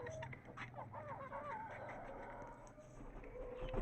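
Hen clucking in a backyard coop, a run of close, repeated clucks over a steady low background, with no talk.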